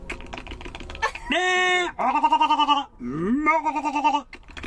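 A voice imitating a flock of sheep, giving a series of drawn-out, wavering bleats, some steady and some trembling, close and loud with short pauses between.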